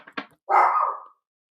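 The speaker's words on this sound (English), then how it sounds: "My dogs are barking, you guys." Dogs indoors give a couple of short barks, one sharp yip followed by a longer, fuller bark and a faint clipped bark at the end, close by and separated by silence.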